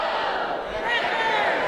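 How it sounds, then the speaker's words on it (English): A school audience in a high school auditorium balcony yells together on cue, a loud, sustained crowd shout filling the space with no individual voices standing out. "On 3, I'm going to have the balcony yell out, go, and the lower bowl, wreckers."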